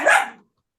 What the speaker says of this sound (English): let me shut this dog up